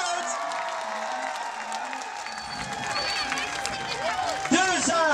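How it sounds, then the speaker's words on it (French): Audience applause at the Festival Eurêka after an EepyBird show, faint clapping mixed with crowd noise, lying under a host's amplified talk, with a few louder bursts near the end. "On les applaudit une autre fois, s'il vous plaît."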